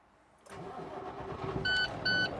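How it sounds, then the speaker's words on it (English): Tractor of a tractor-trailer rig starts up with a brief crank that settles into a steady diesel idle, followed by two short electronic warning beeps. "I started my engine."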